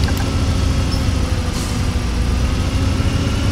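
A bus engine in the video game Bus Simulator 18 runs as a loud, steady low rumble and drone, unbroken and without any talk.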